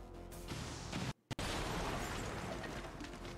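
A rocket blast in XCOM 2 Long War 2 erupts as a loud, dense roar of rumbling debris, cut by a brief silent gap before the boom continues and slowly fades.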